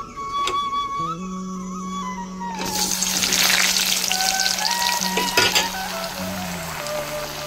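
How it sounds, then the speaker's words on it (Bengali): Potatoes fry in hot mustard oil in a kadai, a steady loud sizzle and crackle that swells midway, with a low steady tone running beneath and occasional clinks of stirring. "আমার তেলটা গরম হয়েছে, আমি আলুগুলো ভেজে নেব"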